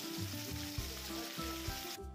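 Ground masala paste sizzling in a hot tempering with curry leaves for Kolhapuri misal, a dense continuous hiss and crackle with low bubbling pops underneath, steady and close.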